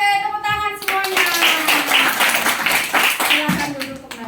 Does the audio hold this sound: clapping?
yes